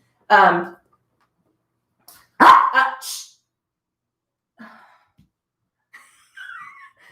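Dog barks inside a yoga studio: a loud bark, a pause, then a burst of two or three barks, followed by faint yips and a soft whine, with quiet gaps between.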